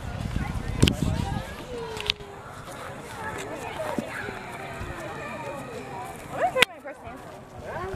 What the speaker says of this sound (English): Watch out, there's a horse coming.